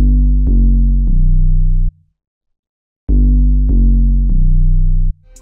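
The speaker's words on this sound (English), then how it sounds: "Next, we have the first 808." Deep distorted 808 bass in an FL Studio hip-hop beat: two loud phrases of sustained booming notes that shift pitch, separated by about a second of silence, with no other sounds.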